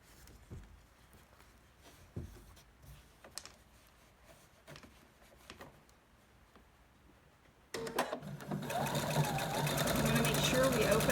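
After scattered quiet taps and handling noises, a sewing machine starts up near the end and runs steadily and loudly, stitching through quilt block pieces.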